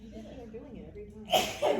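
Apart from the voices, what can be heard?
sneeze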